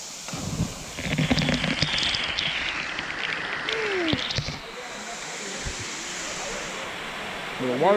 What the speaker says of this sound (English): So welcome to the waterfall here.